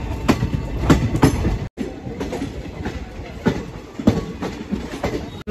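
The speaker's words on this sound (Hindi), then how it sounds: "कामाख्या कटरा एक्सप्रेस" Kamakhya Katra Express passenger train running on its rails, a steady rolling rumble with rhythmic clickety-clack wheel beats and brief dropouts, close and continuous with no talking.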